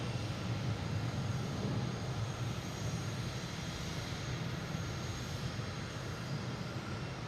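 A large airliner rolls along a runway at Boston Logan Airport, its engines a steady, loud broadband roar with a deep low rumble that holds constant throughout, no voices present.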